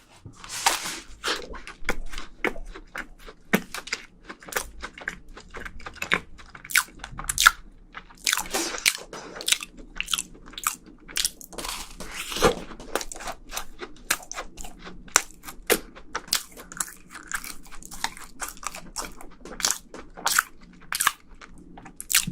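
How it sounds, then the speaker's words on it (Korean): Close, crisp bites and chewing of a bread with a red bean and custard cream filling, with dense crunchy and squishy mouth sounds repeating steadily throughout and no talking. "얘는 일단 반쪽은 팥인데 슈크림인 것 같거든요. 한번 먹어볼게요."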